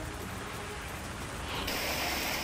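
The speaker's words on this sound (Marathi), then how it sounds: "नाशिकमध्ये मुसळधार पावसाने हजेरी लावली" Heavy rain falls in Nashik as a steady, dense hiss that fills the whole clip and grows slightly brighter and louder partway through.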